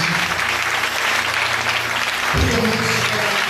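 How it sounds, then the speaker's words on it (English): A church congregation at a worship gathering claps their hands together in a sustained, even wash of applause. A low hum and a deeper thud near the end sit beneath the clapping. "So put your hands together and clap for Jesus"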